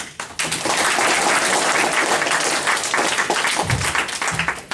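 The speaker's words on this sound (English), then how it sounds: "Clapping is in order." Student delegates at a model UN conference clap together, a loud, full burst of applause that swells quickly and stays strong for several seconds before tapering slightly at the end.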